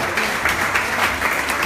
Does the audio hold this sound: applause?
yes